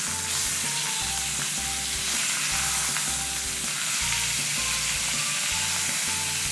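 Flour dry-frying in an ordinary frying pan, a steady close hiss and crackle with a rhythmic scraping stir repeating about once a second, continuous and with no talk.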